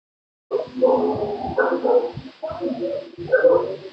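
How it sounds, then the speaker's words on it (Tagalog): A dog barks repeatedly in short, close bursts, some sounding like yips or whimpers, with a voice mixed in among the barks. "Tahol ng tahol."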